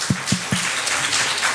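Audience applause at an honors ceremony for high-scoring students, a few sparse claps at the start followed by a thin, brief spatter of clapping, fairly faint.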